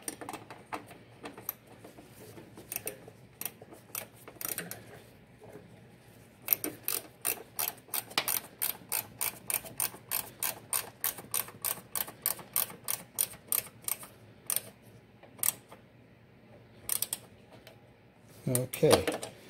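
A ratchet tightens a clutch hydraulics fitting on a Datsun 240Z, making rapid, rhythmic clicking runs close up with short pauses between strokes.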